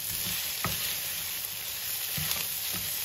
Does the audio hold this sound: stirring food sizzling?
yes